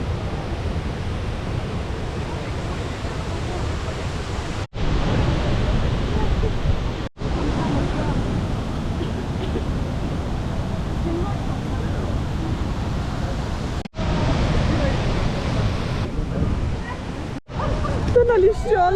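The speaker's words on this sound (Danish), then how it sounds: "Jeg er ankommet til vandfaldet." A waterfall in Morocco roars as a steady, dense rush of broadband water noise, loud and unbroken throughout, with brief dips where the sound cuts out momentarily.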